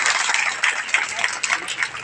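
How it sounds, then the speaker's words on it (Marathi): Steady applause from an audience at a prize presentation during a storytelling session at a literary gathering, a dense wash of many hands clapping continuously with slight swells, no voices. "बक्षीस घेताना तुमच्या टाळ्या वाजवत राहा."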